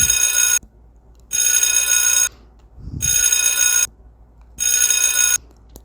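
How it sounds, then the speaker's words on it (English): A bell rings at a convenience store counter in four long, bright bursts, each about a second, separated by short gaps, loud and close with a low thump between. "He's ringing the bell."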